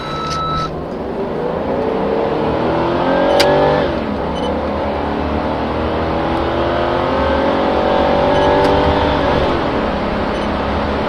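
A Mercedes 560 SEC accelerates hard with manually selected gear changes, the engine note climbing loudly, dropping at each shift and rising again from close inside the car.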